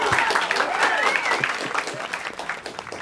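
An audience at a comedy music show claps and cheers for a performer walking on, a dense, steady burst of applause close by from start to finish.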